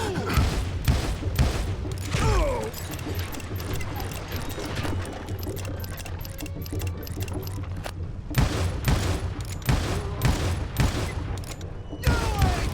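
Gunfire in the Western shooter Call of Juarez: Gunslinger, with dense overlapping shots, booms and impacts in a chaotic battle; quieter stretches in the middle give way to a renewed string of sharp, close reports.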